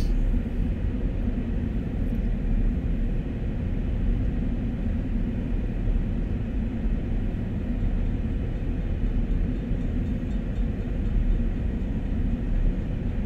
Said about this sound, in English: so we're waiting for the train to come off the branch